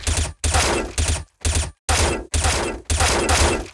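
Short bursts from a suppressed M4A1-S rifle in Counter-Strike: Global Offensive, six loud clipped volleys of rapid shots each cut off by brief silence, close and punchy.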